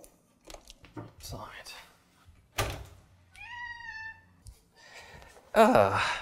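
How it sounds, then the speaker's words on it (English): A cat meows once in a drawn-out, wavering cry, set amid knocks, tape tearing and rustling handling noises close by. "That's Coco meowing outside."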